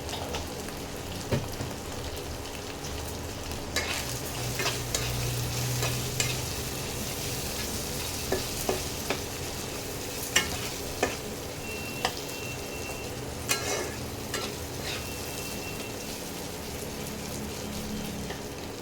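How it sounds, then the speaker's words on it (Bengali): Spices with chilli powder and salt frying in a pan for a prawn and taro-leaf dish, a steady soft sizzle with repeated scraping and clinking of a stirring spoon, fairly quiet and with no talking. "দেখো মশলাটা ভাজা ভাজা হয়ে গেছে"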